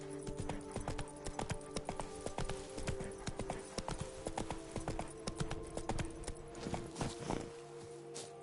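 Roach, a horse in The Witcher 3: Blood and Wine, gallops with a steady, rapid clip-clop of hooves that runs throughout, loud and close over a layered musical background.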